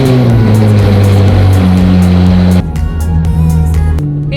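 A Ferrari 458 GT3 race car drives on the road, its loud engine droning close and steady with strong low harmonics, then the pitch drops abruptly as it shifts gear and settles into a lower, rougher drone.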